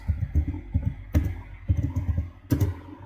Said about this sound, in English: I will now type the query update